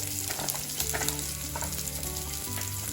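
Onions for chili chicken fry in hot oil, giving a close, dense sizzle with stirring scrapes and a steady hum underneath, no voices.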